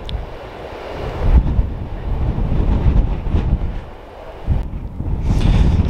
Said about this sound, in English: Very, very windy, desolate site above the town of Perranporth